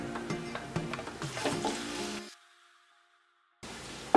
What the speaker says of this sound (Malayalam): നമുക്കിതിലോട്ട് 1/2 ടേബിൾ സ്പൂൺ ഇഞ്ചി വെളുത്തുള്ളി പേസ്റ്റ് ചേർത്ത് കൊടുക്കുന്നു.